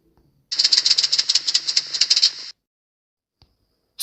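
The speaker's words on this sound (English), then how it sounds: "Snake." A snake's tail gives a dry, rapid rattle for about two seconds, close and fairly loud, with no other sound around it.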